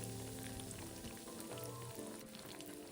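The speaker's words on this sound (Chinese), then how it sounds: "再将备好的虾卷生坯放入油炸" Shrimp rolls deep frying in hot oil over medium-low heat, giving a steady, continuous crackling sizzle throughout with no talk.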